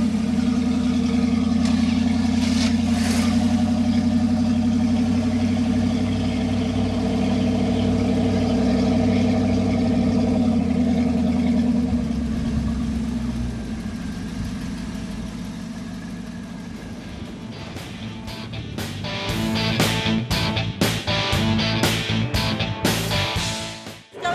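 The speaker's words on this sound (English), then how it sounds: "Here we are watching the cars roll in at the Auckland Hot Rod Club's poker run." Hot rod cars rolling in at an Auckland Hot Rod Club poker run idle with a deep, loud engine rumble that fades midway. Sharp revving bursts and throttle blips follow toward the end.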